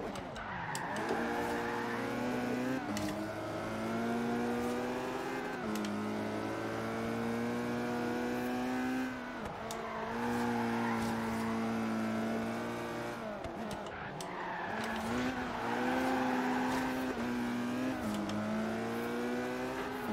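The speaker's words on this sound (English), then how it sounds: "Opel GT." An Opel GT races in Forza Horizon 3, its engine revving up through the gears in repeated rising sweeps with brief drops at each shift, loud and close, with faint tire noise.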